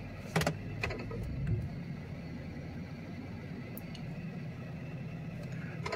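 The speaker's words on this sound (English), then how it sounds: "Just gonna take it for a quick test drive." A 2008 Jaguar XJ Vanden Plas sets off on a test drive: a couple of sharp interior clunks at the start, then a steady, low cabin rumble that carries on to the end.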